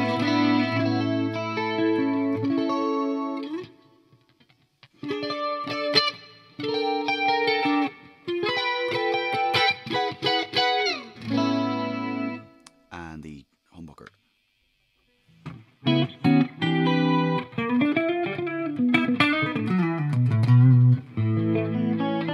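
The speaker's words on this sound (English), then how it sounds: "That's the, all the clean sounds there with a little bit of chorus and delay." A Harley Benton Dullahan electric guitar plays clean, shimmering chords and single-note lines through chorus and delay, phrases separated by short pauses, with a wobbling bend near the end.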